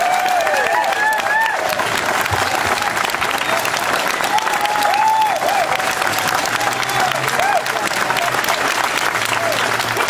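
Loud, sustained applause from an audience at an accordion festival fills the space, with dense clapping, shouts and whistles from the crowd running throughout.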